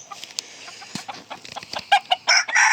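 Chickens in a brood pen, Blue Andalusian hens with a cockerel, cluck and squawk close by in quick, irregular bursts, with several birds calling over one another.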